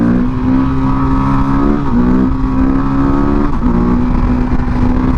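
A Husqvarna 510 SMR supermoto engine revs hard and loud close up, its tone climbing through the gears with brief dips at each shift, no one talking over it.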